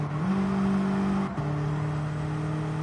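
Volkswagen Scirocco R 2010 engine accelerates with a steady, close hum that climbs in pitch, briefly drops at a gear change, then pulls on again. The car has a six-speed gearbox.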